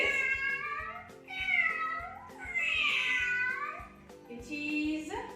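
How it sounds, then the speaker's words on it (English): A cat meows several times in drawn-out, wavering calls, close and clear with short pauses between them, used in an animal guessing lesson for young children. "yes, it is a cat. Cat. This is a cat."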